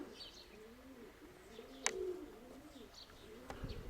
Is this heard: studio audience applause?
no